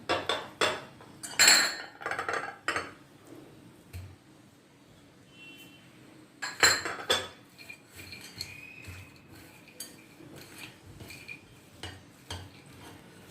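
A spatula works a dry fruit laddu mixture of nuts, cashews and dates in a hot pan, giving intermittent scraping, clinks and clatter against the metal. The sounds are close but soft, with bursts of busier stirring.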